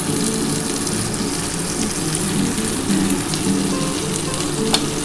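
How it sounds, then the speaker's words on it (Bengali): Amra chutney with turmeric and a little salt frying in a pan: a steady, loud sizzle with bubbling and light stirring scrapes, continuous and close, with no voices. "ভালো করে ভেজে নিতে হবে"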